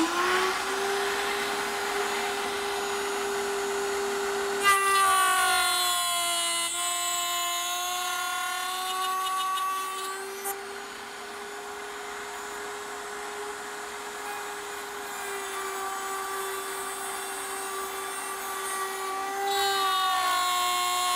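A router at a router table cuts wood for a bedside table, giving a loud, steady whine that shifts pitch as the bit bites into the wood, then settles into a sustained high drone.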